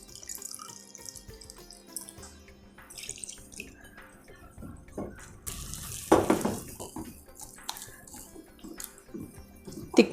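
Tap water runs and splashes into a cup in a home kitchen while water is measured out for a gram flour batter, with scattered drips, clinks and sink noises, fairly close and moderately quiet.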